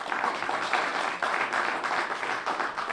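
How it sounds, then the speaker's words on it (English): Audience applause at a mayoral proclamation ceremony honouring an arts figure, a steady dense wash of many hands clapping that holds evenly throughout at moderate loudness, with no talk over it. "Please give an applause for Director Gates coming forward."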